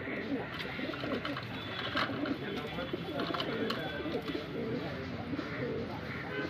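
Kaldume pigeons, red-tailed males among them, coo in soft, repeated rolling calls close by, with someone talking over them throughout.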